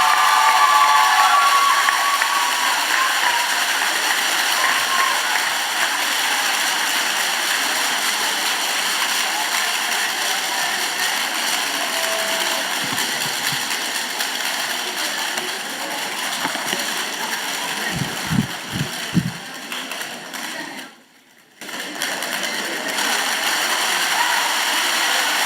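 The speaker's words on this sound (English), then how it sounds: "Keep the applause running for the Seventh-day Adventist Secondary School." Steady, sustained applause from an audience at a school entrepreneurial spirit competition during Trade Entrepreneurial Week, cheering on the Seventh-day Adventist Secondary School, loud and continuous for the whole stretch with a brief dip near the end.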